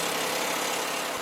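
Steady, close car engine drone while driving, a continuous low rumble with broadband road and cabin noise and no talking.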